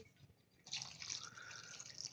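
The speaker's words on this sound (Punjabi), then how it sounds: "ਹੁਣ ਪਾ ਦਾਂਗੇ ਠੰਡਾ ਪਾਣੀ" Cold water is poured over boiled noodles for street-style veg chowmein: a quiet start, then a steady splashing pour from about the first second onward, with no talking.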